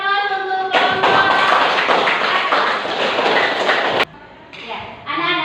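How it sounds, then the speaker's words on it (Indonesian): A classroom applauds a presenting student group, dense clapping from many hands that runs for about three seconds and then breaks off, with spoken voices before and after it. "Beri aplaus untuk kelompok"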